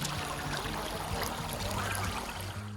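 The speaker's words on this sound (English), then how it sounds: "Honestly, the sound of water is one of my favorite sounds." Steady rushing stream water flowing near stone temple steps in Gulmarg, Kashmir, a continuous loud broadband babble and splash heard up close with no voices.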